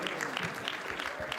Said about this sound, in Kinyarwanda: Amashyi menshi cyane kuri Christopher